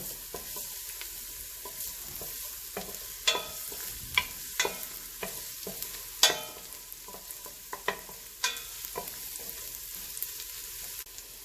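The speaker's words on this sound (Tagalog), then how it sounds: "Pag mainit na po ang ating mantika, lalagay na po natin ang ating bawang." Garlic frying in hot oil for chicken lomi, a soft continuous sizzle with irregular spatula taps and scrapes against the pan, some sharper clacks, close and alone without talk.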